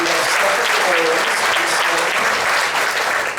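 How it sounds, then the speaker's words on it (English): A chamber of commerce awards audience applauding a nursing school honoree, a loud, dense, continuous round of clapping holding steady throughout, with some voices mixed in. "So let's give her a round of applause"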